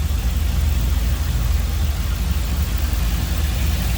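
A 1979 Chevrolet Camaro restomod with a 5.3 LS V8, aluminum heads and a mild cam, idling close by with a steady, loud, slightly lumpy low rumble, no talking.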